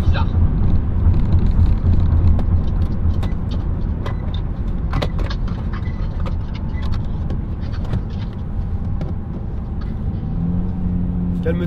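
Opel Crossland converted to E85 with a stage 1 tune, its engine droning steadily under hard acceleration from inside the cabin, with a loud continuous rumble that rises slightly in pitch near the end, while people talk over it.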